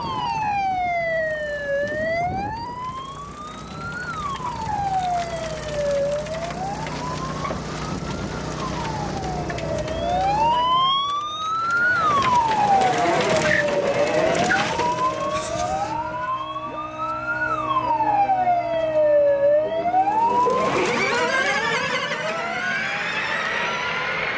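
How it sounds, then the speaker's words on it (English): Warning siren at Pikes Peak sounding before the VW I.D. R electric race car's practice run: a loud, continuous wailing tone rising and falling in slow repeated cycles, heard outdoors with no talk. "the reason why the siren's going off is because it's warning us that the VW I.D R is going to be moving out and doing its practice run shortly"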